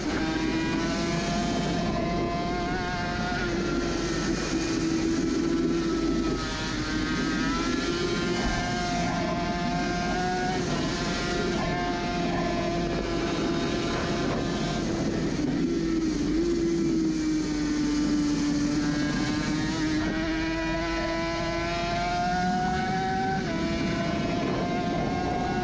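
A Suzuki RG500 two-stroke race motorcycle screams onboard around a circuit, its loud high engine note rising steadily and dropping abruptly with each gear change.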